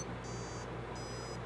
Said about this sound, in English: Adjusting a little buzzer pitch with